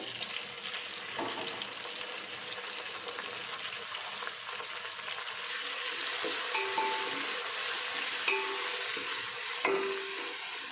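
Large tomato pieces frying in a pan for Rayalaseema-style uggani, a soft continuous sizzle heard close by, with a few light clinks of a spoon against the pan.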